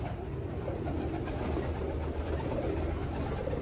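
A pigeon coos softly in low, rolling murmurs under a steady background hum, heard close.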